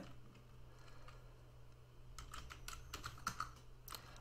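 Computer keyboard typing, quiet scattered key clicks in short irregular bursts over a low steady hum, growing busier toward the end.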